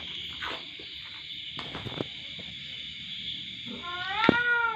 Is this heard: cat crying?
yes